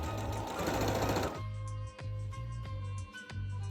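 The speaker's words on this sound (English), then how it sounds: "first step is to sew the crotches together of the front pieces and the back pieces." A sewing machine stitches the crotch seams of front and back pant pieces for a cosplay costume, running in a steady loud whir, then in short bursts with brief pauses between them.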